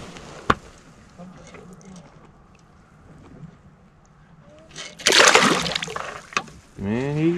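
A fish is tossed from a boat back into the water, landing in a sudden loud splash and slosh of water against the hull, after a sharp knock and quieter movement; a voice follows at the end.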